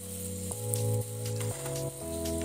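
Ghee and coconut oil sizzle in a pan for dhaba-style egg curry, giving a continuous hiss close up beneath a steady melodic background.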